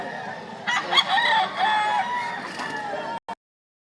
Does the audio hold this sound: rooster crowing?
yes